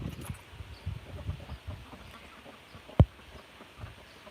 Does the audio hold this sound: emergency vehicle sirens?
no